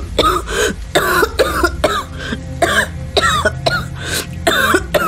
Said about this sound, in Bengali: সাথে শুরু হলো প্রচণ্ড কাশি।